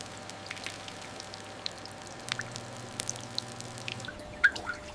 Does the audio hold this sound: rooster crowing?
no